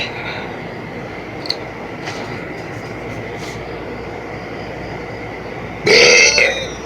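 A person lets out a loud burp near the end after a stretch of quiet room noise, one long rough belch standing out clearly.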